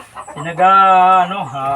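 A backyard chicken lets out a single drawn-out cluck, loud and close, with a rising then falling tone, while feeding.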